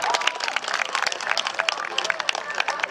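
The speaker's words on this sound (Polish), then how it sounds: "Wielkie brawa!" Audience applause at a harness-racing league event in Świecie nad Osą: brisk, dense clapping from a moderate crowd, steady and fairly close throughout.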